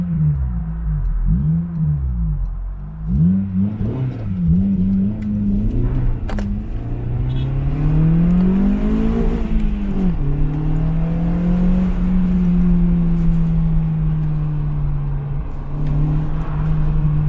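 Honda K20 engine in a tuned car being revved: a close, loud engine note climbing through the gears in rising sweeps, then settling into a steady drone, with no talking.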